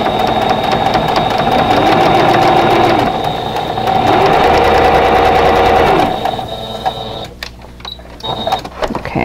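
Sewing machine stitching a vintage Carolina Lily quilt block, running loud and close in a continuous whirring stretch with a brief change in pace, then slowing into a few clunks and stops.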